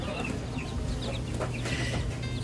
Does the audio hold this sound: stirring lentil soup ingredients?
no